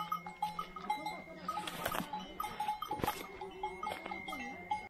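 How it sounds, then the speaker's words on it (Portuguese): Cows graze in a forest clearing, with cowbells clanking and animal sounds scattered through steady outdoor ambience, moderately distant and fairly quiet. "Acabamos de achar as vaquinhas pastando aqui."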